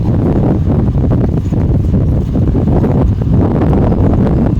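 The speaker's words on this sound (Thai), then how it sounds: "อู้ยลมแรงมาก" A strong wind blows hard and loud across the microphone, a continuous roaring buffet with no letup.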